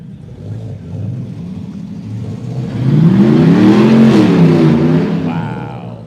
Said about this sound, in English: Big engines here.